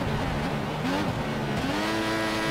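A Formula 1 race car in the F1 2014 video game accelerates, its engine whine climbing through the gears in a continuous, loud, near drone, with a commentator's voice faintly underneath.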